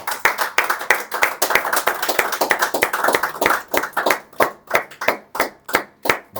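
Church congregation clapping in praise of the Lord, a dense burst of many hands that thins into slower, rhythmic claps, fairly close and without voices.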